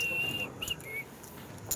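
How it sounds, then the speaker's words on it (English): A person at a European Poker Tour Grand Final main event table gives a thin, faint whistle: one steady high tone of about half a second, then a few brief chirps over low room noise. "I can only fake whistle"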